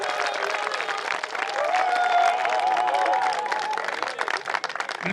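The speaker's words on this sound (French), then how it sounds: "Est-ce qu'on peut applaudir?" An audience at a cultural festival's official launch ceremony bursts into steady, sustained applause, a thick wash of many hands clapping that carries on evenly for several seconds, with a faint voice or tone beneath.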